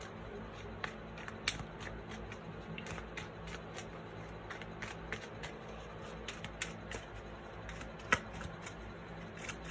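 A deck of cards is handled up close, giving quiet papery flicks and snaps in an irregular stream of sharp ticks, with a few louder card slaps and no talking.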